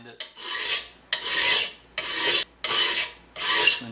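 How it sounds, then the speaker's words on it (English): A metal file rasps across a lawnmower blade being sharpened, five long scraping strokes in a steady rhythm with brief pauses between, close and loud with no talk. "just clean it up a little bit with the file"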